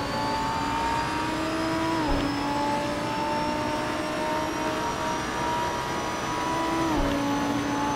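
Race car engines drone steadily at the Nurburgring GP circuit in Assetto Corsa, a sustained tonal whine with brief pitch dips around gear changes, moderately loud and continuous with no speech.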